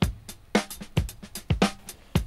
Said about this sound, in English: just a simple two-bar breakbeat in a clip